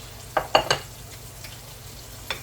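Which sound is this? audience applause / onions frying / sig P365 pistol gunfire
onions frying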